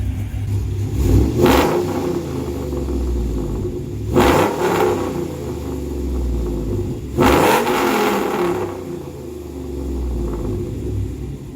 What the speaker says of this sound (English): this is gonna be with the exhaust cutout closed